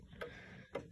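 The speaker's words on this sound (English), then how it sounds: "Has a really nice tick." A New Haven Jerome ogee wall clock ticks softly, two evenly spaced faint ticks heard close in a quiet room with no talking.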